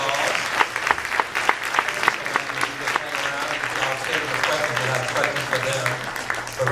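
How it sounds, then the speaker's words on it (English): An audience at a public forum on a south suburban trauma center gives a round of applause for three panelists. The clapping is steady and sustained, a dense patter filling the room, with a voice faintly underneath. "Give these three outstanding public service a round of applause."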